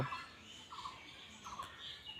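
Two newly bought desi (native Bangladeshi) hens vocalise in a few short, nasal calls spaced about every three-quarters of a second, moderately close over a steady hissy background with no talking.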